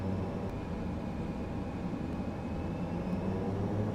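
Steady, even drone of an ATR-42 turboprop in flight in a flight simulator game, a constant broadband engine and propeller roar with no breaks or talk.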